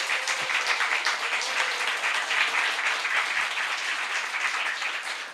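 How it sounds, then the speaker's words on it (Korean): A church congregation breaks into steady, continuous applause, a dense wash of many hands clapping throughout with no pauses. "박수 한번 하겠습니다"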